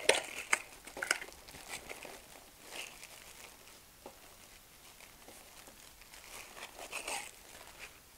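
Sheets of cloth-backed sandpaper are handled close by, giving sharp crinkles and rustling scrapes in irregular bursts, with quieter shuffling between them.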